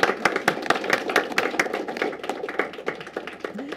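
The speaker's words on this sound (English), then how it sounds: "And now you may applaud if you so choose" Audience applause at a mayoral candidates forum, a dense, steady clatter of many hands clapping in a hall, continuous and fairly loud throughout with no talk over it.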